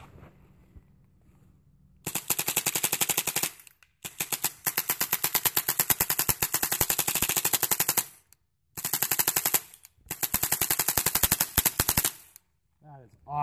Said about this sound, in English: I'm going to throw some more rounds downrange.